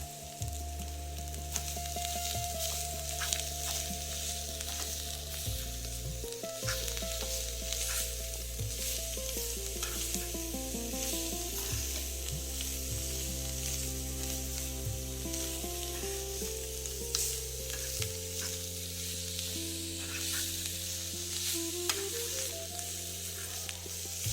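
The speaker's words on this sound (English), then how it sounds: "Add the preheated shredded bitter gourd karela in the pan. Mix all ingredients to get a consistent look." Shredded bitter gourd (karela) fries and gets stirred in a pan, a loud continuous sizzle with scraping stirs, while steady music with sustained tones plays underneath the whole time.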